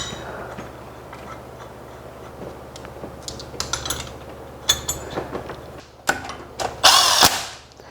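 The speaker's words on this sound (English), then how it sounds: "I was excited to finally bolt down my intake for the first time." A power tool bolts down an engine intake on a Studebaker LT race car project, with rattling ratchet clicks and short bursts of tool noise that build to a loud final whirr near the end.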